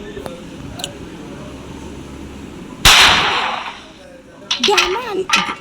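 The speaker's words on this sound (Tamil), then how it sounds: "சரி நான் போய்ட்டு மேலே ஒன்று சுடுறேன்" A gunshot in the Granny horror video game, one sharp loud blast near the middle of the clip followed by a short decaying tail, with game ambience and a few brief voiced sounds around it.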